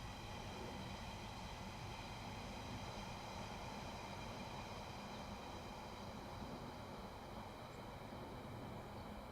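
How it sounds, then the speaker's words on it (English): Steady low rumble of a London Underground Central Line train approaching Buckhurst Hill, Essex, with a continuous mechanical hum and whine, holding constant throughout at moderate distance. "I can hear a train approaching."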